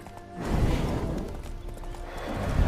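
Horse in The Witcher 3 video game, steady hoofbeats clip-clopping at a gallop with a possible whinny, moderately loud over a busy game soundscape with no clear talking.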